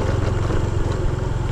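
Carburetor-troubled motorcycle engine on a muddy, potholed road, a close, loud, rough chugging with uneven pulsing, sputtering briefly and unsteadily as it is revved.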